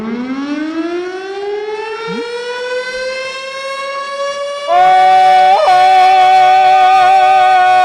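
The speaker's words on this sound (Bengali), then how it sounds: "লাল বাতি অন কর, সাইরেন বাজা" A loud, sustained siren wail rising slowly in pitch, then shifting into a fuller, louder steady tone near the end.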